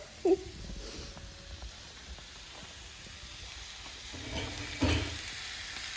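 Pork browns in a cast iron pot for pozole, giving a soft, steady sizzle under low background noise, with a few brief clatters and knocks from handling the meat.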